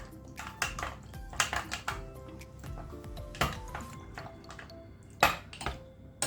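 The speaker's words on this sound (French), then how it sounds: "je mélange une première fois à la cuillère et après je ferme mon bocal et je mélange avec le bocal fermé" A spoon stirs and scrapes ingredients inside a glass jar, giving a run of light irregular clinks and taps against the glass, close and fairly quiet, with no talking.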